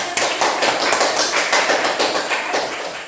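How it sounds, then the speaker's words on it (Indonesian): Classroom applause for a student group after their presentation, a dense, steady patter of many hands clapping close by for about three seconds, fading slightly at the end. "kita berikan aplaus"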